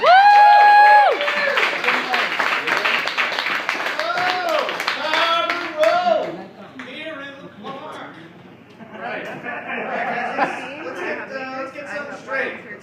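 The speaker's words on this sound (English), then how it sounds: "I want you all to give him a huge round of applause" Applause and clapping from a comedy club audience at The Station greeting comedian Matt See, a loud, dense patter lasting several seconds and mixed with cheering voices and talk, fading slightly toward the end.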